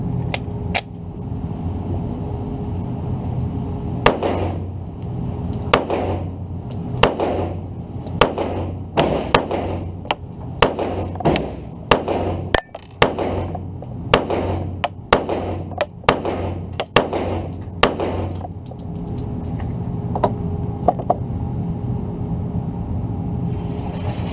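Polymer80 pistol fired at an outdoor range, a rapid string of about fifteen sharp, loud reports spaced roughly a second apart over steady background rumble, with no talking.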